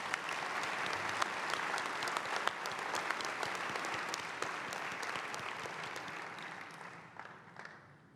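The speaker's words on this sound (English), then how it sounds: "So a big round of applause for our sponsors." Sustained applause from the audience at the WCPCCS 2023 conference opening ceremony, a dense steady wash of many hands clapping for the sponsors that thins and fades toward the end.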